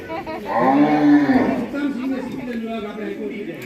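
Cows at a cow shelter moo loudly and close by in one long drawn-out call, with people talking over the lowing.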